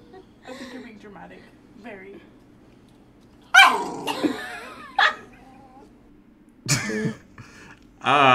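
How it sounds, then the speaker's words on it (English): Dog barking in short loud bursts spread across the clip, with coughing or throat-clearing sounds and people talking in between. "That's a dog."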